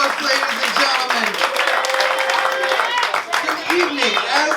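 Studio audience applauds the host of a comedy show: a thick, steady burst of clapping from a large crowd, close and loud, with voices sounding over it.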